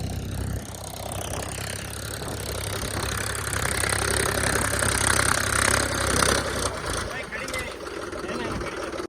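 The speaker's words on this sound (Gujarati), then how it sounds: "મિત્રો અમે ખેડવાના હતા પણ હવે ટ્રેક્ટર ફસાઈ જાય એવું લાગે છે" A tractor stuck in a farm field while out for ploughing runs its engine steadily nearby, a low rumbling knock that holds throughout, with people talking over it.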